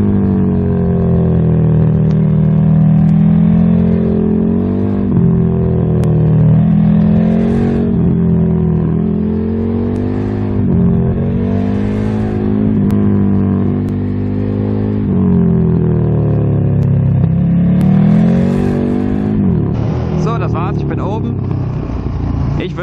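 A motorcycle engine drones loudly and continuously while riding, its pitch rising and falling as the rider accelerates, revs and shifts, close and steady throughout.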